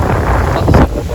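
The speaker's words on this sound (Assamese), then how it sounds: "ৱাও বতাহটো" Wind gusting at an outdoor resort, a steady close rumbling buffeting the microphone for about a second, swelling briefly near the end, with no voices.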